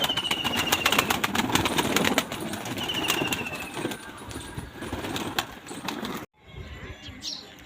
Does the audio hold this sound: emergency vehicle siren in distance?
no